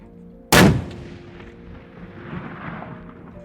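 A single loud CheyTac Intervention rifle shot cracks out sharply, then a long rolling echo decays across open ground for several seconds, with no voices.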